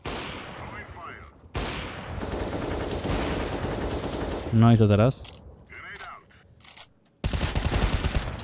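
Rapid bursts of automatic weapon fire and single sharp shots from an Overwatch match, loud and close, separated by brief gaps, with someone speaking briefly between them.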